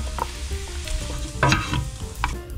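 Meat cooking in a pan with oyster sauce, black pepper and Sprite sizzles steadily up close, with a few scraping stirs and clinks of a utensil against the pan.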